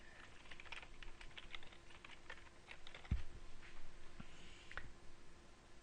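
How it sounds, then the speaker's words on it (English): A computer keyboard being typed on to enter a website address, with brisk, irregular close-up key clicks and a couple of sharper taps over faint background hiss. "just come in and type in your website."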